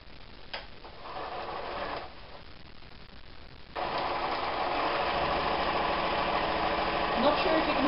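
A sewing machine stitches quilt log pieces together with a quarter-inch seam, giving a steady mechanical whir that starts softer and then runs louder and continuous through the second half.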